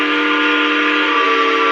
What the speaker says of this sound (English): It's a whistle show here.